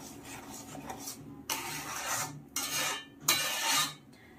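Mango pulp being stirred in a pan while cooking aamsotto, giving bursts of scraping, rasping strokes against the metal that come and go in uneven stretches at close range, with no voices.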